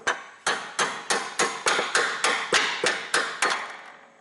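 A hammer beats a steel drift to drive a rear upper control arm bolt out of a 2006 Chevy Malibu suspension, about a dozen evenly spaced, ringing metallic blows up close.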